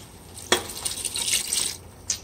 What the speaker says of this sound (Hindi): चल पानी भी डाल दिया